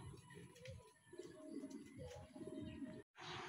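Racing pigeons at a training and pooling release in Sta. Rosa, Laguna, coo softly in low, throaty murmurs, faint and close against quiet background noise, with a brief dropout near the end.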